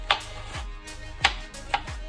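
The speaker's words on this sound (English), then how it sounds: "Rough chopping some garlic to a food processor here." A knife rough-chops garlic on a cutting board, with three or four sharp, evenly spaced chops close up and nothing else heard.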